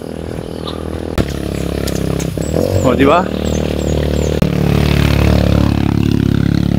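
A motorcycle climbs an uphill road on a ride to Mapaang, its engine droning steadily and close throughout with a brief clattering scrape partway through, while riders talk over it.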